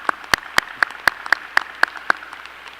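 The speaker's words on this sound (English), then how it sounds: "give her a round of applause" Sparse, evenly spaced handclaps from a commencement audience at Murray State University's May 2021 undergraduate ceremony, honoring a graduate; about nine crisp claps in a steady rhythm, fairly close, with no talk over them.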